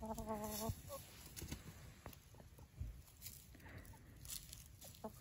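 Feather-footed hens in a Lithuanian village yard give a short, faint clucking call at the start, followed by quiet scratching and pattering around them.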